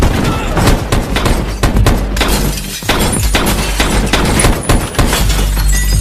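A rapid burst of gunfire crackles continuously in the film Collide (2016), with sharp shattering, breaking sounds mixed into a loud, dense action scene.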